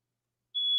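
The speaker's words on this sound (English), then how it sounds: "Uh-oh, fire alarm." A heat detector fire alarm in a home, tripped by steam from a shower, cuts in abruptly with a single loud, pure, high-pitched electronic tone that holds steadily after a second of silence.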